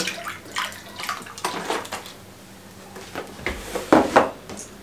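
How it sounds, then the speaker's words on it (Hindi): Two cups of milk are poured into a mixture in a short liquid splash and gurgle, followed by a bright clatter of dishes near the end. "दो कप हम इसके अंदर दूध के शामिल करेंगे।"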